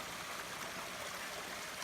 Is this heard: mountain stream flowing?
yes